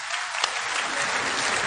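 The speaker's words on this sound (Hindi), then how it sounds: "एक बार जोरदार ताली से इनका धन्यवाद करिए" Loud, sustained applause from a large crowd at an outdoor political rally or mahapanchayat, with dense, steady clapping throughout and no speech over it.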